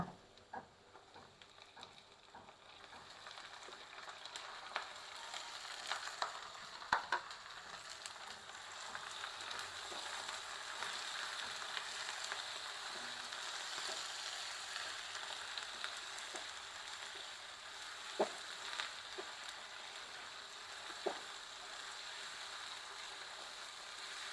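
Pieces of desi chicken fry in a pan and are stirred while a spicy curry is being cooked. A low, steady sizzle runs throughout, broken by occasional faint clicks and scrapes from the stirring utensil.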